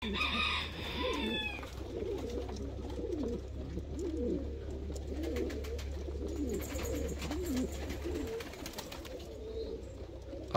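Big fancy pigeons in a loft give a run of low, rolling coos one after another, while a rooster crows loudly at the start and a steady hum sits underneath.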